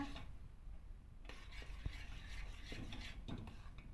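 A spoon scrapes and stirs a thick homemade lokum mixture in a pot on low heat, with soft, uneven rubbing and a few light clinks against the metal.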